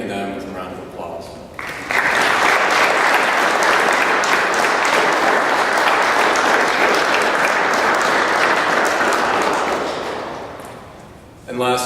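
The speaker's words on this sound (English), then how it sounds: "please join me in thanking them with a round of applause" Loud, dense applause fills the room at a 2014 National Honor Society induction ceremony, beginning abruptly after a brief voice, holding steady for about nine seconds, then tapering off.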